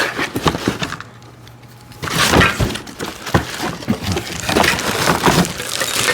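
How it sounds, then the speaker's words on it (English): Cardboard and plastic packaging being torn and unwrapped from a box of mobile TV stand parts, with bursts of crinkling, ripping and thumping close by after a brief quiet pause. "And here's another box that we gotta basically unwrap."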